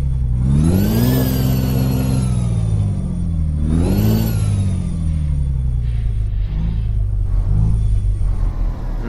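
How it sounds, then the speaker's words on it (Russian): Kenworth W900 truck engine in Euro Truck Simulator 2 revving loudly twice, pitch climbing and falling in two strong sweeps, then settling into a steady idle with a couple of small blips, with no talk over it. "Нажимаем газ."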